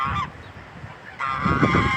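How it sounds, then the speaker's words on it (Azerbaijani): Geese kept by a neighbour alongside ducks honk loudly and close by, one nasal call at the start and a longer, louder honking burst near the end, separated by quieter farmyard background. "Baxın, ördəkləri var, qazları var."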